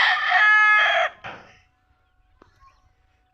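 A rooster on a backyard poultry farm crows one loud, long cock-a-doodle-doo close by, then quiet with a few faint clucks and bird sounds.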